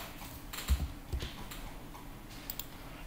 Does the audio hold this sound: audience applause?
no